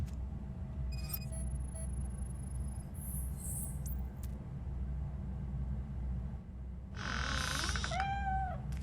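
Cat meowing inside the video game RoboCop Rogue City, a short rising and falling meow near the end, heard over a steady low game ambience rumble with a few faint electronic tones earlier.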